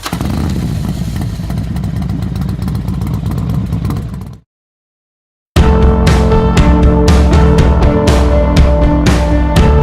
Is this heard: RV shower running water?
no